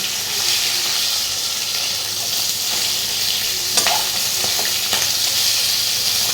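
Fish heads fry in a pan of hot oil with a loud, steady sizzle and hiss. A few brief scrapes and clicks of stirring come through near the end.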